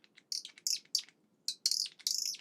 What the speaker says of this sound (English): It's just some little bird sound, but it's a piece of wood.